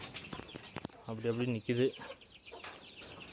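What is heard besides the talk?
chickens clucking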